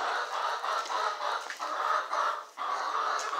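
Several chickens cluck and murmur together in a continuous, close chorus, with no voices present.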